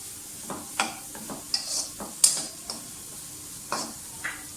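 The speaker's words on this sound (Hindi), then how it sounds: "इसके साथ हम सबसे पहले कैरेट डालेंगे, क्योंकि कैरेट जो है वो देर से गलती है, तो ये पहले जाएंगी। थोड़ा सा फ्राई करें।" Carrots fry in a pan for egg fried rice, a soft sizzle under a series of sharp spatula scrapes and clinks against the metal, spaced irregularly and fairly close.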